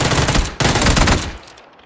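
Rapid automatic gunfire in PUBG, two loud, close bursts of shots separated by a brief gap, the second trailing off into quieter echoes.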